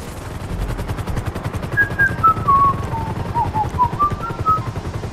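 In GTA 5, the rapid rhythmic rotor chop of a helicopter runs steadily throughout, loud and close, with a faint wavering whine above it.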